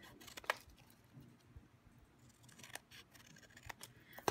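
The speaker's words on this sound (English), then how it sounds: "we're going to cut it at a different length" Scissors snip through crushed curry colored cardstock for a candy corn treat box, a few quiet, sharp cuts spaced out near the microphone.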